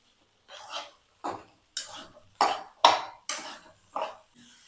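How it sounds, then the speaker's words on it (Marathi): Sabudana (tapioca pearls) for khichdi being mixed quickly in a pan, a series of about eight soft, scraping and clattering stirs in a steady, hurried rhythm, close and fairly quiet with no talking. "मी आता फटाफट ही जी साबुदाणा आहे तो व्यवस्थित मिक्स करून घेते"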